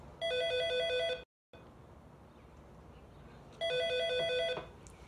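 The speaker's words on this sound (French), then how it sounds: "Maintenant, ça fait partie de tes tâches de répondre au téléphone." An electronic telephone rings in two short bursts of rapid warbling tones separated by a pause, fairly clear against a quiet room background.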